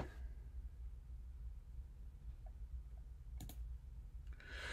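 A single soft mouse click sounds on a create table button, a brief faint tick over a low steady room hum, with no talking.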